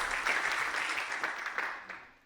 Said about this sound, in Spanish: Dele un aplauso a Jesús si lo cree